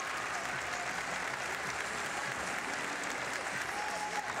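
A crowd at a girls' high school basketball championship game applauds steadily for an injured player as she walks off the court, a sustained wash of clapping throughout.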